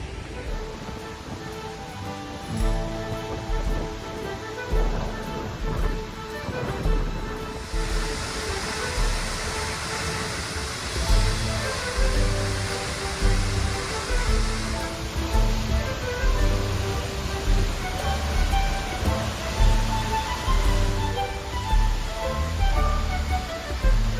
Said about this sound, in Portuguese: Eu estou passando exatamente por trás da cachoeira agora.